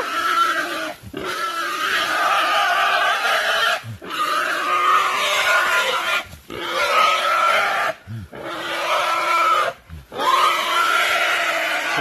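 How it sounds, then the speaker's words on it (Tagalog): A pig of over 100 kilos on a farm, being prepared for roasting, grunts and squeals harshly and almost continuously, with several short breaks, loud and close. "Grabing hirap namin dito sa baboy na to."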